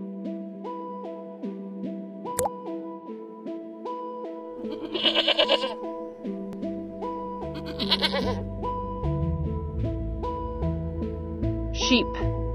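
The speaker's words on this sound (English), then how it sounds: "goat." A goat bleats in short repeated calls over a steady tonal music bed, mixed with other animal cries and a spoken word, fairly loud and close.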